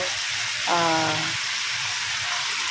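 Chicken sautéing with garlic and onion in a pan for chicken pakbet gives a steady, close sizzling hiss throughout, with a short tonal sound briefly rising over it.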